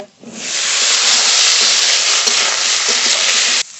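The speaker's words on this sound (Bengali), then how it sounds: "আলু খুব ভালো করে ভেজে নিয়েছি আস্তে আস্তে জাল দিয়ে আলুটা একটু নরম করে নিয়েছি এবার কেটে ধুয়ে রাখা ঝিঙে দিয়ে দেব" Potatoes and chopped ridge gourd fry in a hot pan, a loud, close, continuous sizzling hiss that swells up within the first half second, holds steady with faint crackles, then cuts off abruptly near the end.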